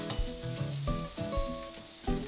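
Eggs, kale and potatoes sizzle in a frying pan, a close crackling fry with a few soft scraping stirs and clinks.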